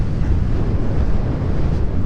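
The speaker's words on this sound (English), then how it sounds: "let me wait till this wind passes here" Wind buffets a microphone outdoors beside a Yamaha Raptor 660 quad, a constant loud low rumble with no let-up.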